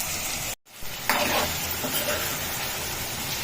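Potato and hot rice fry in plenty of oil over high flame, a continuous close sizzle that cuts out briefly near the start, then returns brighter and steady with no talking.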